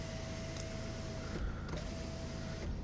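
An electric car sunroof motor whirs steadily with a thin tonal hum, stops briefly with a soft clunk, then runs again, quiet and close inside the cabin.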